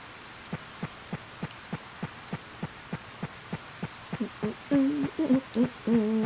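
Rain in the video game Harvest Moon: Save the Homeland sounds as a regular, looping patter of soft ticks, with tonal game music notes joining in toward the end.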